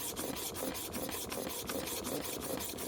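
A hair clipper blade in a holder is rubbed back and forth on a diamond sharpening stone coated with paste, making quiet, rasping strokes that repeat in a quick, steady rhythm, about three each second.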